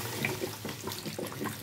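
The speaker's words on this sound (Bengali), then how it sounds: "এবার কষানো হয়ে গেছে, আমি এবার জল দিয়ে দেব।" Water is poured into a simmering vegetarian jackfruit curry in the pan, a brief, soft liquid splash and gurgle with some light bubbling, quiet and without speech.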